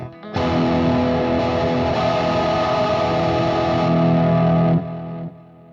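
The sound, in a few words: electric guitar with drive effect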